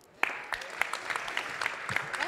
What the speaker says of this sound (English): Patricio, please applause.